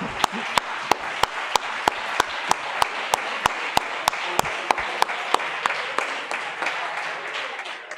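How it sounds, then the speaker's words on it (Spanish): Listeners at an opening lecture of a university teaching conference break into steady applause, with sharp, evenly spaced loud claps standing out in a rhythmic beat over the continuous patter. "Pues, pues un aplauso inmenso."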